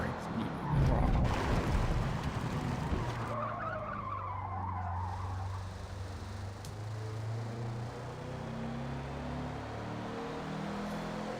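An older car runs an out lap on a race track, engine droning steadily with a burst of tire skidding and roar early on, then a continuous mid-distance hum with faint speech underneath.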